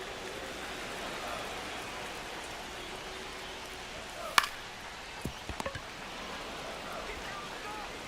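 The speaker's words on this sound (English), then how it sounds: "The rain is here, and it doesn't look like it's going away anytime soon" Steady rain falling over a ballpark during a baseball game in MLB The Show 25, a constant hiss of rainfall with a few sharp knocks partway through.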